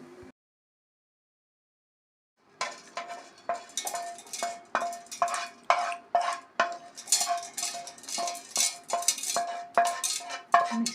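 Roasted chillies, coriander seeds and cumin tipped from a pan into a mixer jar, a quick run of dry rattling, clinking spills and scraping taps after a brief silence, close and steadily repeated.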